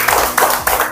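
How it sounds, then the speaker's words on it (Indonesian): A crowd of students and teachers at a university ceremony breaks into applause, a dense run of hand claps with a few louder bursts standing out. Brief, close and continuous, with no talk over it. "Tepuk tangan sekali lagi."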